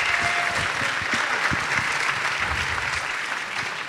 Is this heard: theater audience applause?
yes